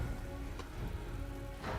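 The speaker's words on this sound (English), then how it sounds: "The wind was back, and it was raining outside." Steady rainfall ambience from the video game Spellforce 3 Reforced, a continuous soft hiss of rain on surfaces at low level with no distinct drops standing out.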